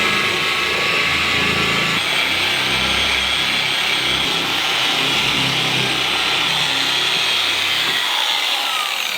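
Car polisher spinning at about 1200 RPM while spreading polish on an SVT Terminator Cobra's paint; a loud, steady motor whine with buffing friction runs close and continuous, then the low rumble drops out near the end.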